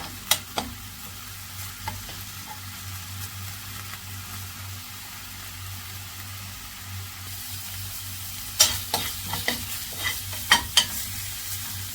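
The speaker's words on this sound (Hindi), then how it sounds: "अदरक लहसुन का पेस्ट इसे भी कर लेंगे फ्राई" Ginger garlic paste frying in a pan, a steady low sizzle with a low hum beneath, then a cluster of sharp spoon clacks and stirring scrapes toward the end, with no talk.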